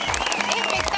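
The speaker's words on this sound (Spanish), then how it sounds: "Chicos, aplauso para Coco." A studio audience applauds for Coco on a televised cooking school show, a short burst of dense clapping heard under a speaking voice.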